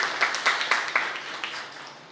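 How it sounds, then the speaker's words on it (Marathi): Audience applause for a Marathi lecturer at a talk event, a short burst of hand clapping with a few distinct claps up front that quickly thins and fades. "एकदा जोरदार टाळ्या सरांसाठी झाल्या पाहिजे."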